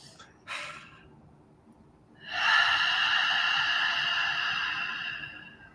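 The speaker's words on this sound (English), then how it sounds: "I'm going to ask everybody to take a deep breath." A group of people draws in a long, audible deep breath together, a soft airy inhale rising and holding for several seconds after a brief earlier breath, with no talking over it.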